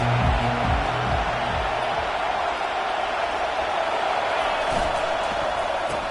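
Steady stadium crowd roar from a College Football 25 game fills the clip, a dense continuous wash of cheering with a few low thuds near the start and no speech.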